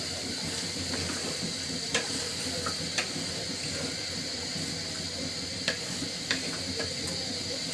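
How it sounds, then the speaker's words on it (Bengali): Chicken and spices being stirred and fried for a chicken curry, giving a steady soft sizzle with a few sharp spatula scrapes against the pan, close by and moderately faint. "মশলা এবং মাংস খুব সুন্দর করে মিশিয়ে নিব, তারপরে খুব ভালোভাবে কষাবো।"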